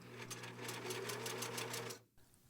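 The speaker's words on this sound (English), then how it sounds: "I was planning on just sewing as much as I could on the machine" A sewing machine runs fast and steady, stitching handwoven fabric with a rapid, even mechanical whir and clatter. The motor is quiet and close, then stops abruptly near the end.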